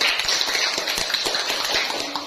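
Classroom applause from a group of students rises in a dense patter of claps that stays steady for a couple of seconds, fairly close and loud.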